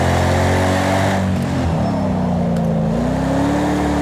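Ford Mustang drifting in second gear in a racing video game, its engine droning loud and steady throughout with the pitch dipping and then climbing again as the revs shift.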